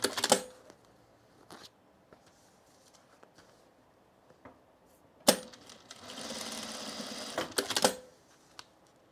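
A sewing machine stitches cargo pants in short scattered bursts, then runs in one longer steady stretch before stopping, with clicks and handling noises between runs.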